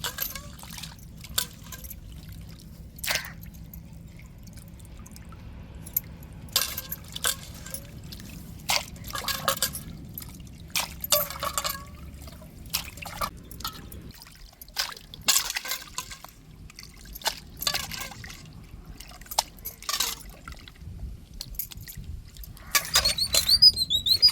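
Crab and plantain are rinsed in water for a fish curry, giving scattered splashes, drips and sloshing handling sounds, with a low background hum that stops partway through.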